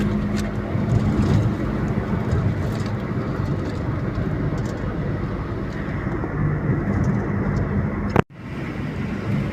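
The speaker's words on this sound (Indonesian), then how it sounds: "Barusan kita berpapasan dengan bus Rona Indah" Rona Indah bus passing by on a road, a heavy steady rumble and rush of engine and tyres close by, ending in a sharp thump followed by a brief drop-out.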